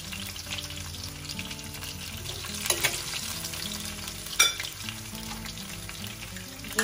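Dry herbs and spices frying in a pan over a medium-low flame, a steady close sizzle with a couple of sharper crackles or utensil scrapes partway through, no voices.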